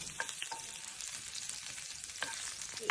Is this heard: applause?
no